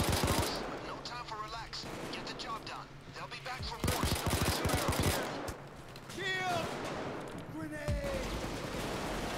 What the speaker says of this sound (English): I'm actually almost out of ammo if I keep shooting like this.